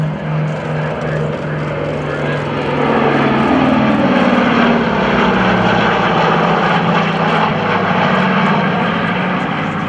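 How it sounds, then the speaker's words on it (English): A B-25 bomber passes overhead on approach for an overhead break landing, its piston engines and propellers producing a loud, steady drone that swells midway, with an announcer speaking over it. "Air B-25 approaching at a little bit higher altitude than you would expect for landing"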